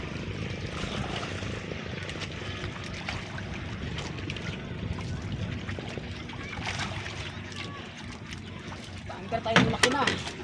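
An idling boat engine drones steadily up close, a continuous rough mechanical rumble with small swells in loudness, rising to a brief louder burst near the end.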